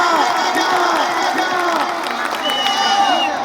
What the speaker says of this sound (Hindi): तो ताली बजा के आशीर्वाद देना जा